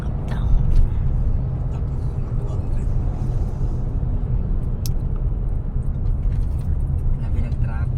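City traffic near SM Uptown, with cars and vehicles rumbling along the road in a steady, loud low drone and occasional sharper engine and horn-like accents. Voices chatter over it throughout.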